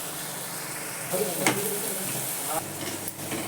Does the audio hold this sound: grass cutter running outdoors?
no